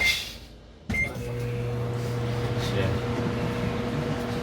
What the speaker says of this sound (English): then we're gonna nuke it just like you did for a whole minute there